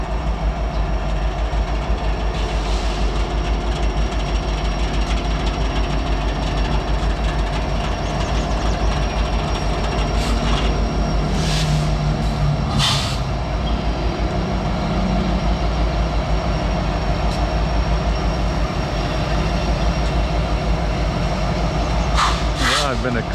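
A freight train rolls past a rail junction near a diamond crossing, a continuous heavy rumble and clatter with low engine drone and occasional sharp metallic squeals, steady and close throughout.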